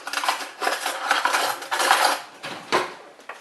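A clean spoon smooths pumpkin cheesecake filling in a pan for a two-layer pumpkin cheesecake, making repeated close scraping and clinking strokes in several bursts with short pauses.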